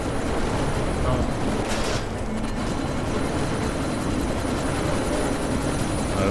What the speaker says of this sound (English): How do I stop said chopper from leaving?